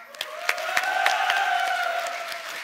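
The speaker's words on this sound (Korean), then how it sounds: "큰 박수로 환영해 주세요" A seated audience at a youth unification and security vision presentation event claps to welcome the presenters, a brief burst of applause rising and holding steady at close range.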